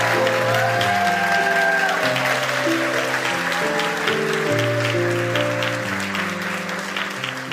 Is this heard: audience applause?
yes